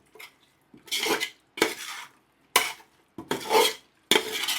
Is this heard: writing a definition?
no